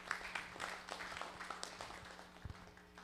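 Audience clapping after a question at a real estate investors' meetup, a faint, scattered patter of hands heard from a distance in a quiet room.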